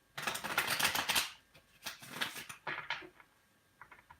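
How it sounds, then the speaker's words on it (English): Cards being shuffled during a reading session, three quick riffling bursts of crisp, close-up patter separated by short pauses, then a few lighter taps. "One last shuffle for Nina's new love life."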